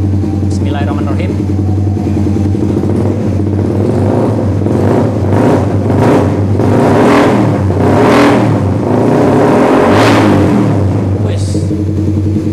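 A loud short exhaust on a Subaru WRX GP6 revs repeatedly in rising bursts over a steady idling rumble, close by.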